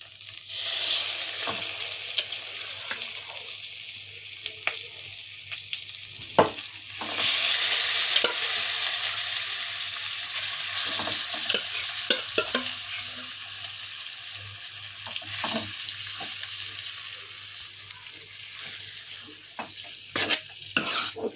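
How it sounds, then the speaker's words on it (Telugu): Butter chicken stirred in a pan as butter melts in, a continuous close sizzle and hiss with repeated clinks and scrapes of a utensil against the pan, swelling louder midway. "ఒకసారి బటర్ మొత్తం కలిసేలాగా ఒకసారి మిక్స్ చేసుకుందాం."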